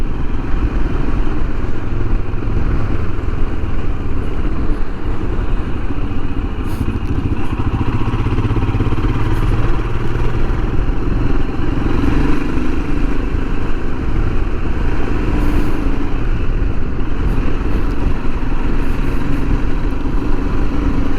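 A Royal Enfield Himalayan motorcycle rides through town, its engine a loud, continuous rumble close up with wind rush and no break.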